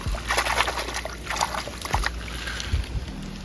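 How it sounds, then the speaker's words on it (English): River water trickles and splashes lightly as a small botryoidal agate is rinsed by hand along the rising Yellowstone River, soft irregular sloshing close by and fairly quiet. "Let's wash it off here in the water."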